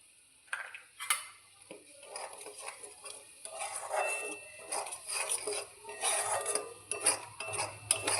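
A utensil stirs and scrapes a cooking pot of fish paste curry, making steady close clinks and scraping strokes over a faint sizzle with an irregular rhythm, and no talking.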